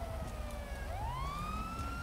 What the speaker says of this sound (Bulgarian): Това е полицейска кола.